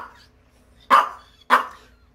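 Two sharp, close barks from a freshly groomed Maltese, the second following the first after a short pause, with near silence around them.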